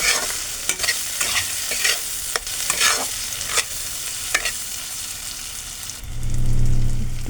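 Chopped tomatoes cooking in a pan with turmeric, coriander and cumin powder, sizzling steadily while a spatula scrapes and stirs in repeated sharp strokes, then a softer, duller frying texture near the end.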